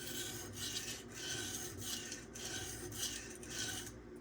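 A Transparent Knives Reblade K390 steel blade is drawn across a sharpening stone in steady, even strokes, each a soft close rasp that swells and fades in a regular rhythm, quiet and with no talk.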